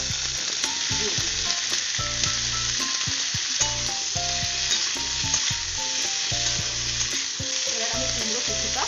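Diced pumpkin fries with onions in a pan, giving a steady close sizzle broken by repeated scraping and clattering strokes of stirring, with no voices.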